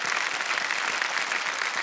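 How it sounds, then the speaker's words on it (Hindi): A studio audience on a TV quiz show bursts into dense, even applause for a contestant, a continuous roar of clapping with no pauses. "तालियां बज जाए इनके लिए"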